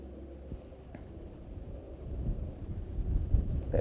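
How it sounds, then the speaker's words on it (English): Wind gusting downstream over a river during float fishing, a low rumbling buffet that is faint at first and then swells and grows rougher toward the end, with no voices. "Bit of a downstream wind now"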